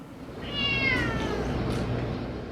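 A kitten rescued by firefighters from a collapsed building in Florida, where it had lived on the ninth floor, lets out one drawn-out, fairly faint meow over a low background hum.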